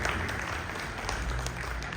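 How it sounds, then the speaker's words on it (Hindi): A crowd claps loudly and steadily for a man on stage at a live event honouring Baba Devendra Tiwari, a dense, continuous wash of applause with no pauses. "एक जोरदार ताली हो जाए हमारे बाबा के लिए।"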